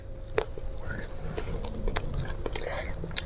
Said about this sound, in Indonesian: Makan kentangnya ini agak keras ya.